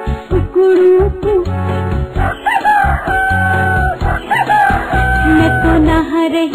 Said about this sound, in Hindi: मुझे मुर्गे ने जगाया, बोला कुकड़ू कु कुकड़ू कु